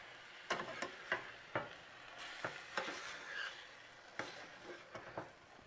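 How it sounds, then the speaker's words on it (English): Utensil stirring a tomato juice mixture in a pan for shakshouka, giving a series of scraping, clinking strokes at an irregular pace with a soft sizzle underneath, close and fairly quiet. "we're going to stir this up, really mix that together"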